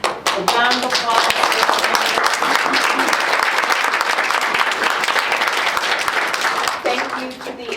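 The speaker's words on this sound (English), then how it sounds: "Thank you so much for our panelists. A round of applause." Audience at a community conversation on immigration gives the panelists a round of applause, loud and dense clapping that fills the room for several seconds, with a voice speaking briefly at the start and end.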